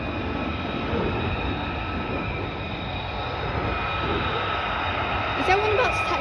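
A military jet taxis close by at RAF Lakenheath, its engines making a loud, steady broadband roar that holds for the whole stretch and swells slightly toward the end, with faint voices beneath.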